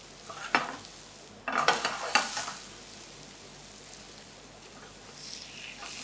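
Chicken skin searing with paprika in a pan over high heat, a low sizzle under a few sharp clattering scrapes of stirring and turning, then a quieter steady fry.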